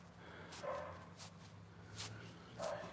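A dog barks several times at a distance, short bright yips spaced through a steady low background hum near a place where people are heading outside toward a boat.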